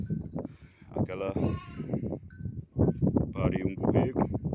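Sheep and ewes being sorted on a farm, with several close, wavering bleats that overlap and follow one another, alongside nearby voices.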